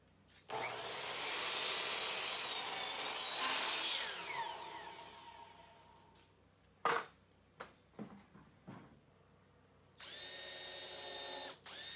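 Power tool shaving the squared ends of 2x6 wood boards: a long, loud whining cut for about four seconds that tapers off, a few sharp knocks and clatters, then a steady high motor whine near the end.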